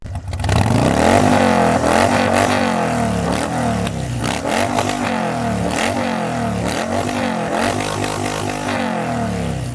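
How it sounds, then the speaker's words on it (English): A Harley-Davidson Sportster 48 motorcycle riding on the road, its loud V-twin engine revving and rising and falling through gear changes, close and continuous with no talk. "I'm going to take you out on the road with my very own personal Harley-Davidson Sportster 48"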